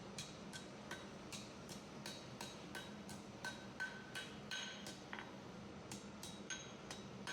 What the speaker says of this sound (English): Now I'll use the hardy hole in the corner of my hammer to cup the leaf slightly.